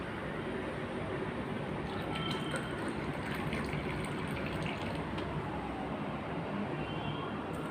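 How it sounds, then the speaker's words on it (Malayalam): Tea pours steadily into a cup, a continuous liquid rush lasting several seconds with no pauses and no voices. "ആദ്യം തന്നെ ഞാനിത് ചായ എടുത്ത് ഒഴിക്കാൻ പോവാം"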